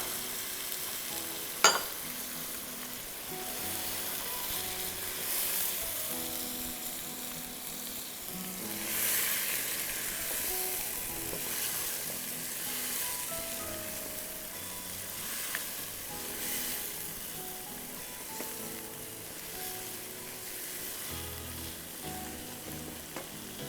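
Cubed chicken frying in a handi, a soft steady sizzle with occasional stirring and a brief clink early on, fairly quiet, with faint background music.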